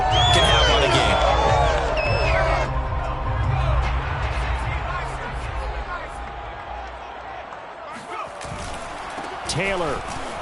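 A home crowd roars and cheers in a PS5 Playmakers football video game against the Colts, a broad swelling noise with sharp thuds early on and commentary talk running over it.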